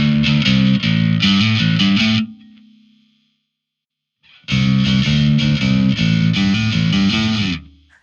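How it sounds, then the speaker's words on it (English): A heavily distorted electric guitar, played through a distortion pedal shaped by a Darkglass Anagram EQ, plays chugging riffs, goes silent briefly as a note rings out and fades, then comes back just as loud. "this is really shaping how the distortion reacts to my playing"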